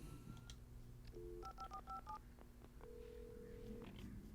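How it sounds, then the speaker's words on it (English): A telephone sounds in Alan Wake Remastered, with a short series of clipped electronic tones followed by one longer tone over a low, steady game ambience. "Phone."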